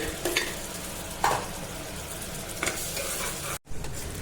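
Onions frying with ginger-garlic paste and chillies in a pressure cooker, a steady sizzle broken by a few scrapes of stirring, close and even, with no voices.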